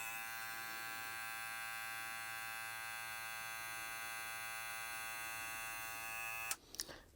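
BaByliss FX Plus hair clipper running, a steady high-pitched electric buzz with a strong tonal whine that holds for over six seconds, then cuts off abruptly with a brief clatter.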